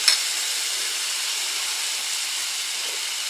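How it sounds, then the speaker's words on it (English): Couscous heating in a pan on a stove gives off a steady, soft hiss with an even, faint sizzle and no talk. "The couscous is heating up nicely."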